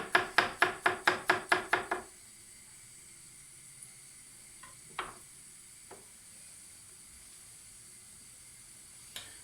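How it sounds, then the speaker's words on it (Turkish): A large garlic clove is finely chopped with a knife on a board, about nine quick, even knife strikes in a steady rhythm over two seconds, followed by quiet kitchen ambience with a few faint clicks. "Sonrasında bir büyük diş sarımsağımı gene aynı şekilde ince ince doğruyorum."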